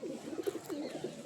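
Pigeons cooing close by in a soft, rolling series of low coos, steady and unhurried against a quiet background.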